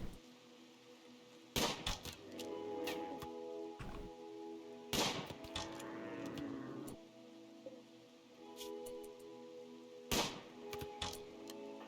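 Gunfire in the video game RimWorld cracks in a few sharp, separate bursts several seconds apart, with smaller clicks between them, over soft rain and background music.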